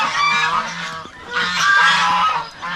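Several geese honk loudly and close by, calls overlapping in bursts with a short lull midway, among farmyard poultry that include turkeys.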